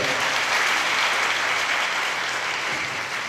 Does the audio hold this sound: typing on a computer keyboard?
no